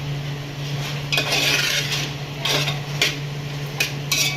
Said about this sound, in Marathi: चांगला फ्राय करून घ्यायचा असं एकदम मस्त तर व्यवस्थित मी परतून घेते